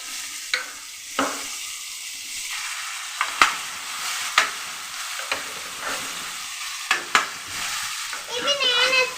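Potato cutlet mixture stirred and fried in a hot pan: a steady soft sizzle broken by repeated sharp scrapes and knocks of a spatula against the pan, with no talk.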